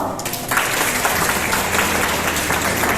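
Applause from a university lecture audience on self-confidence, a broad, steady wash of many hands clapping together at moderate volume throughout.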